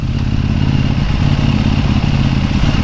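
A KTM Duke 790 big bike rides at speed alongside a Honda CBR 650, its engine droning loud and steady over heavy wind rush, with no talking.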